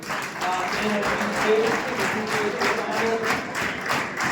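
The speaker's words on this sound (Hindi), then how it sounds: "इनके लिए आप तालियां बजा दीजिए" Crowd clapping at a get-together, brisk and continuous with a few sharp taps standing out, while faint tonal voices and background chatter sit underneath.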